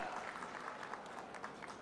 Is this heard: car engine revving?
no